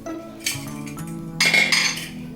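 A preheated pressure cooker lid is opened with metallic clinks and scrapes, two short rattling bursts of metal on metal, close and clear in a quiet kitchen.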